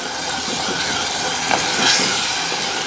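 Tomato, green chili, coriander, mint, garlic and ginger paste sautéing in a pan, giving a steady loud hiss and sizzle throughout at close range.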